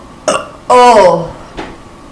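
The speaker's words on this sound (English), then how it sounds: "You're afraid you're gonna burp?" A single loud, drawn-out burp sits close to the microphone, with short vocal sounds just before and after it.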